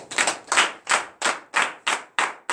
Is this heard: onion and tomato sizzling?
no